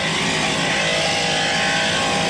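Racing powerboat engines at the 1983 APBA Stroh Light Challenge on the Detroit River, Michigan, roaring at high revs in a loud, continuous, unbroken drone with no voices over it.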